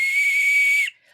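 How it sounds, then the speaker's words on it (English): Rape whistle built into a pocket knife, blown once in a single shrill, steady tone lasting under a second, loud and close, then cut off abruptly. "It's also got a rape whistle on it."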